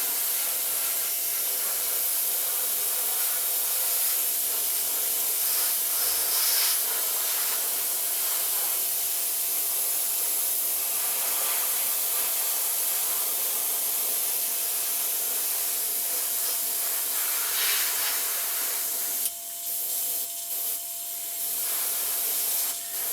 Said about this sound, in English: I would always prefer spraying 2 thin layers of color on the figure than one really thick